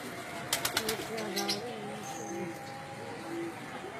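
Baby pigeons land with a few quick wing flaps and soft cooing in a noisy outdoor setting, while someone talks over them.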